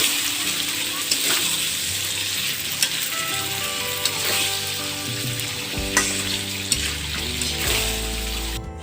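Broiler chicken and whole pointed gourd sauté in a pan, a steady sizzle running throughout with light scraping and tapping as the pieces are stirred, and a low tonal hum underneath.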